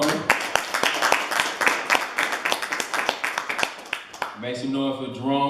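Crowd at an MMA press conference applauding and cheering, dense overlapping claps for several seconds before a voice begins talking near the end.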